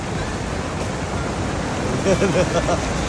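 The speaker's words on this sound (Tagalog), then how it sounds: "Oh, malakas kasi alon." Strong ocean waves churn and rush in a steady, loud wash of surf that fills the whole stretch, with a brief voice rising over it near the end.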